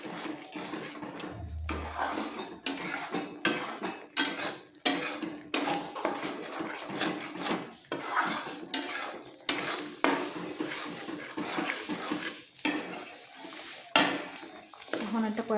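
A spoon scrapes and clanks against a pot as fish head curry is stirred, the metallic knocks coming in quick irregular bursts, loud and close, with a brief voice at the start.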